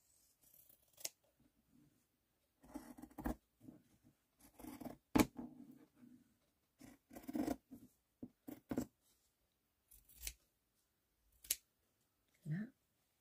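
Scissors cut material along marked lines for a craft project, snipping in irregular clusters of crisp close-up clicks separated by quiet gaps, with a rustle at the end.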